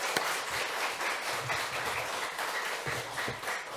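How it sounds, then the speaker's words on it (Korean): Congregation applause for the pastor after a Sunday church sermon, a steady dense clapping that holds for the whole stretch at moderate loudness with no talk over it. "귀한 말씀 전해주신 목사님께 감사의 박수 올리겠습니다"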